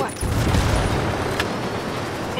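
A helicopter being shot down and exploding in the Ghost Recon Wildlands video game: a heavy low boom and rumble that swells early and then lingers as a dense roar, with a few sharp cracks on top.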